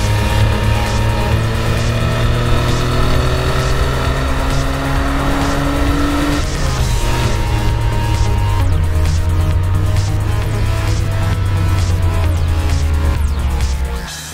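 A rear-engined Renault Clio V6 hatchback revs hard at full throttle on a race track, its loud, steady engine drone climbing in pitch through the gears with a brief shift dip, close and continuous with no talking.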